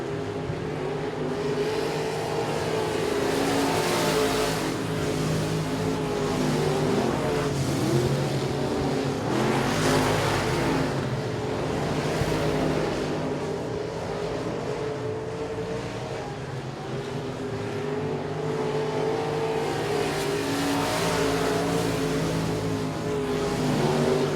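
Race cars lap Sabine Speedway, their engines a sustained, loud roar that swells and fades as the pack passes, shifting pitch with throttle and distance, with no talk over it.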